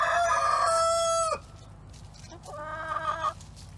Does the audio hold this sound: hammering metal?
no